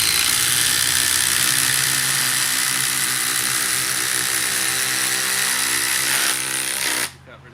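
Makita 40V and DeWalt 18V impact drivers drive a 280 mm (11-inch) landscape screw: a loud, steady, close mechanical whirring runs for about seven seconds, then cuts off abruptly.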